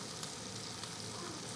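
Tortillas cooking in a hot pan give off a steady, even sizzle with faint crackle throughout, soft and close, no voices.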